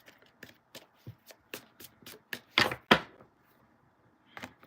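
Tarot cards being shuffled by hand, a series of crisp riffling bursts in an irregular rhythm with two louder, longer shuffles near the middle, close and alone in a quiet room.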